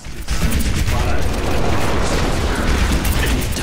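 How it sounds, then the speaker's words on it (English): Dense, continuous gunfire and battle noise from Widowmaker and Hanzo in the video game Overwatch, a loud, busy mix of shots and game mechanics running almost the whole time. "got a Widowmaker and Hanzo shooting at me"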